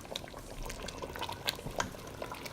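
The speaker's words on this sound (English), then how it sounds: "Bring it up to a boil, I meant, and cover." Kare-kare simmering at a boil in a covered pot gives off soft, scattered bubbling pops and gurgles, fairly close and quiet, with no voices.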